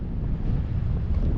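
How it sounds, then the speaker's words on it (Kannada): At Chakra dam, water pours down in a steady broadband roar mixed with cold gusting wind buffeting the microphone, loud and continuous with no talking. "ತಣ್ಣ ಗಾಳಿ, ಆ ನೀರು ಬೀಳೋ ಸದ್ದು"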